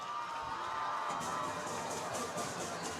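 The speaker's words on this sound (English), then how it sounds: "here's the Ramblers making some noise" Ramblers fans at a LaFayette vs. Trion high school football game cheer and shout together, a steady wash of crowd noise with whoops rising from the stands.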